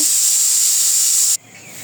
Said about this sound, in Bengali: প্রেসারের ছোলাটা সিদ্ধ দিয়েছি